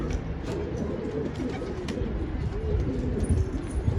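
A wild bird and its chicks coo softly on a street, low repeated cooing under steady background noise, fairly faint and close.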